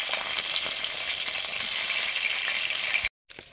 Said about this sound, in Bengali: বেগুন আলুটা ভেজে নিচ্ছি এখন